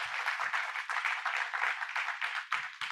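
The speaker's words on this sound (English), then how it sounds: "Yes, we should clap for that." An audience at a business school whitepaper launch breaks into steady applause, a dense wash of many hands clapping at moderate volume, with no talk.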